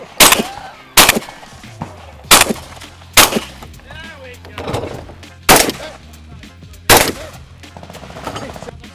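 Eight loud gunshots ring out at a shooting event, sharp reports spaced about a second apart in a steady rhythm, with voices and outdoor background noise between the shots.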